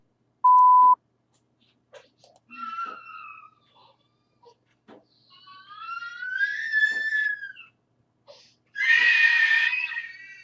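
A single short, loud prompt beep marks the start of response preparation time in a spoken test, followed by scattered wavering voice-like tones and a louder burst near the end.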